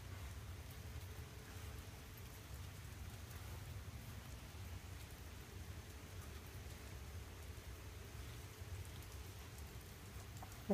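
Steady rain falls outdoors in a soft, continuous hiss, faint and distant, with a low rumble underneath and no one speaking.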